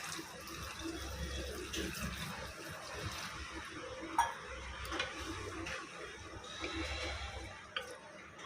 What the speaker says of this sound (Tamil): கொஞ்சம் தண்ணி விட்டு இதை மூடி வச்சிடலாம்.